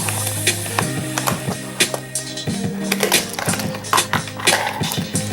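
Fingerboard wheels and trucks clattering and grinding across a small homemade mini ramp, a busy run of close rattling clicks and scrapes with rolling rumble underneath, no talking.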